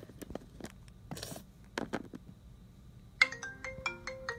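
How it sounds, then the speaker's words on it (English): A phone ringtone plays alone near the end as a clear, bright melodic ring, after a few scattered soft taps and rustles. "Oh, that's my phone. I better go get it."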